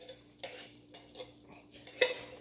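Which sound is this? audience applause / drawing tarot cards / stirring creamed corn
stirring creamed corn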